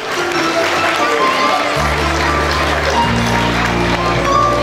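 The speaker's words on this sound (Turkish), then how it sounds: "Bir alkışlar mıyız efendim?" Wedding guests applaud at a Turkish wedding celebration, a loud, dense wash of clapping blended with steady music tones and crowd noise.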